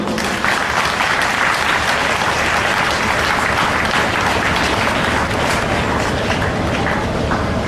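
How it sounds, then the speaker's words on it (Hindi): Applause from an audience at a Gou Katha religious gathering welcoming guests, dense continuous clapping throughout, loud and full with a crowd roar underneath. "तालियों से स्वागत कीजिए दोस्तों।"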